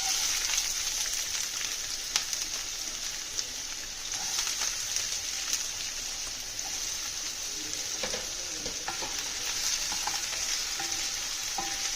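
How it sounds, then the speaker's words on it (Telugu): Onions frying in hot oil for goat brain fry, a steady dense sizzle with bright hiss throughout, scattered crackles and occasional stirring clicks, close and continuous with no voices. "ఆయిల్ వేడెక్కింది కదా,"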